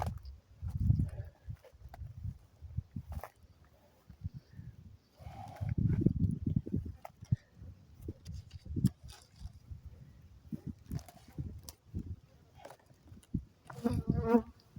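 Honeybees buzzing around opened hives nearby, droning in and out among scattered knocks and rustles, with a louder close buzz near the end.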